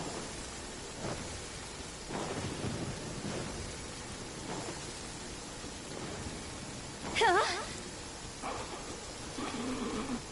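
Thunderstorm with rain in a video game, a low rumbling wash of rain and thunder, fairly faint, with a brief chirping sound partway through.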